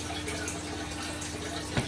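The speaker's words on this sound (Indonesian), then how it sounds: "Jadi nggak ada kayak gemericik air, tapi arus, lebih tepatnya arus." A top filter on a snakehead fish tank pours its outflow into the water, making a steady rushing current rather than a trickle, continuous and close.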